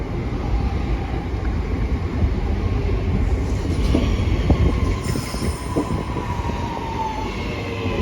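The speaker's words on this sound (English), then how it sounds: "here comes 323217 working the West Midlands Railway service to Bromsgrove" West Midlands Railway Class 323 train 323217 pulls into University station in Birmingham with a loud, steady rumble, squealing wheels and a high brake whine that rises as it slows alongside the platform.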